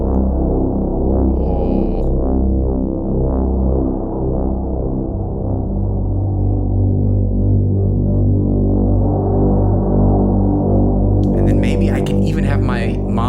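A sustained, buzzy synth pad from the Soundpaint Dunescape instrument with a gritty distortion effect drones for several seconds, with a brief bright noisy burst near the end.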